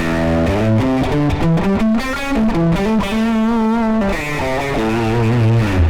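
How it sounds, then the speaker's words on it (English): Guitar chords and melody heavily saturated and distorted by a tape saturation effect on a Helix processor, with a warm, fuzzy, smeared tone and some wobble, played continuously and loud. "we get this kind of funny saturation."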